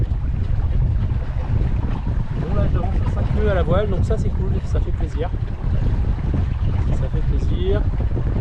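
A sailboat making about five knots under sail off the Breton coast near Perros-Guirec, with a loud, constant roar of wind buffeting the microphone and rushing water along the hull, while someone talks through it.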